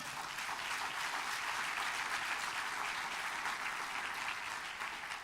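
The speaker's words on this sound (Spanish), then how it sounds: "¿Cuánto le dan un aplauso al Señor?" Church congregation applause praising the Lord during a sermon: dense, steady clapping from many hands that holds an even level throughout, with no voices over it.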